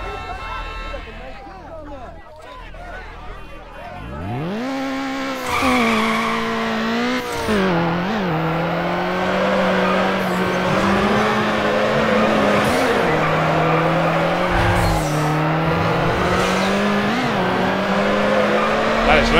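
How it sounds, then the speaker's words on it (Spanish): Racing cars in Need for Speed Underground 2, including a Nissan 240SX, with engines revving and rising in pitch, tires squealing through drifts, loud and continuous. "Suenan como si estuvieran otros coches por ahí corriendo ahora mismo."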